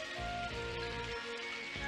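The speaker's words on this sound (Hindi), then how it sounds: "बारिश शुरू हो गई।" Cartoon rain sound effect as a shower begins, a steady hiss of falling drops pattering on surfaces with faint tonal music threads underneath, continuous and fairly soft throughout.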